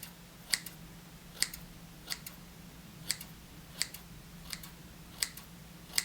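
Synthetic scissors snip musky jig material in a quiet room, about eight crisp close clicks spaced roughly one per second, with a faint hum underneath.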